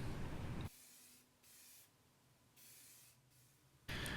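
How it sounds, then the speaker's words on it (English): Acrylic lacquer sprayed from a can onto a carved crankbait lure shaped like a northern redbelly dace: four short, close hissing bursts separated by brief quiet pauses. "I'm going to put several coats of acrylic lacquer on the lure"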